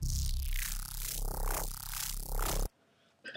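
A heavy neuro bass patch built in the Massive synthesizer plays alone, a loud gritty sustained bass with slow sweeping wobbles in its tone, cutting off abruptly before a faint brief tail.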